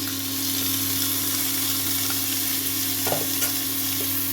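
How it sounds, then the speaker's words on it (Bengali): Chopped tomatoes stirred into fried spice paste in a pan for dhaba-style kabuli chickpea and rajma ghugni, giving a steady close sizzle with a few scraping stirs near the end. "টমেটো দেওয়ার পরে নাড়িয়ে চাড়িয়ে নিতে হবে"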